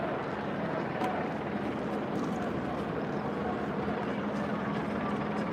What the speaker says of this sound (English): we got a new helicopter over our head